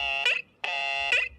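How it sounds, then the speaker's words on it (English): A comedic bummer alarm sound effect plays as a harsh, tonal electronic buzzer in two loud blasts separated by a short gap, with no talking. "Bummer alarm. Bummer alarm."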